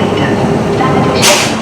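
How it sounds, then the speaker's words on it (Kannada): A train pulls into a station with a loud, steady rumble and rolling wheel noise, close by, ending in a brief hissing burst of brake or air noise. "ట్రైన్ వస్తుంది."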